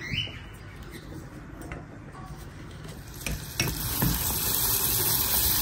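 Butter melting with brown sugar and about a tablespoon of cinnamon in a pan, giving a soft steady sizzle and occasional stirring scrapes that grow slightly louder toward the end, with no talking.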